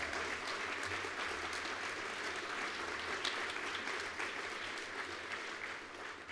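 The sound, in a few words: audience applause for the president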